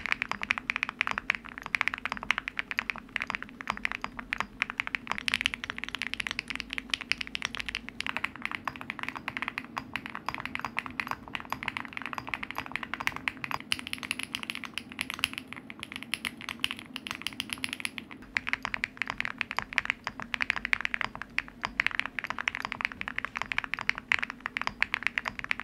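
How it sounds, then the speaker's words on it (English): Someone types steadily on a Bridge75 keyboard fitted with ceramic keycaps, giving a dense, continuous patter of close, crisp keystrokes with no talk. "as I was building the keyboard, I had no idea how the keyboard would sound like"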